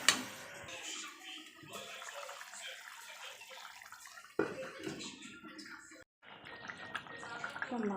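Water poured into a pan of rohu fish curry with potato and cauliflower, a running splash that shifts in pitch as the pan fills, followed by short clatters and gurgles.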